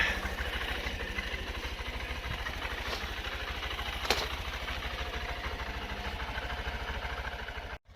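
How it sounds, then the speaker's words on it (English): A 2023 Honda CB125F motorcycle engine idles steadily after a cam sprocket replacement, with a rapid, even pulsing thump, close up, with a brief click partway through before it cuts off at the end. "the bike is idling with your piston in it"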